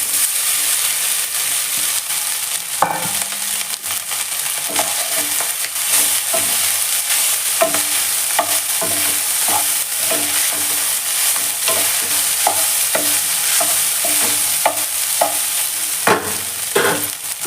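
Rice being stirred into a pan of capsicum bath, with a steady scraping and clacking of a spoon against the pan over a continuous soft sizzle, close and fairly loud, with no talking.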